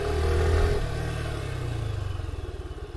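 A 2022 Suzuki Gixxer SF FI ABS motorcycle runs close by, revving briefly at first and then settling into a steady idle with a pulsing, even beat.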